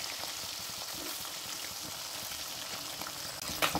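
Bele fish frying in hot oil in a wok, giving a steady, close, crackling sizzle that holds evenly throughout, with a slight clatter near the end and no talking.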